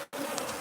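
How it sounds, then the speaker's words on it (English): Close, steady buzzing of honeybees around a hive with dark comb in a horse stall, a dense continuous drone after a brief gap at the start, with no talk. "these bees are absolutely great"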